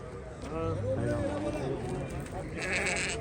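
Lambs bleat a few times close by amid a crowd of people talking at a livestock market.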